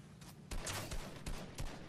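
Video game gunfire in Fortnite: a quick volley of several loud shots in a dense, rapid burst lasting about two seconds.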